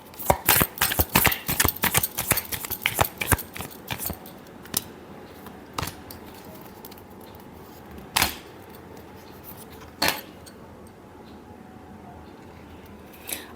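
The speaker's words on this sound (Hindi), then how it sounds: "Last shuffle." Tarot cards being shuffled make a rapid run of close, crisp riffling snaps at first, then thin out into a few isolated card flicks spread over a quiet pause.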